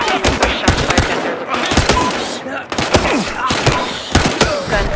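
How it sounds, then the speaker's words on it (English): Automatic gunfire from the Battlefield Hardline video game, a police-versus-criminals shooter, with dense overlapping bursts and sharp shots crackling throughout, loud and close, in a chaotic firefight. "Gunfire reported."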